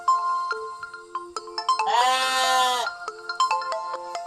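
A mobile phone rings with an incoming call, playing a melodic electronic ringtone of short, bright, plinking notes. A longer buzzy, bleating tone sounds midway, then the quick note pattern resumes, fairly quiet and close.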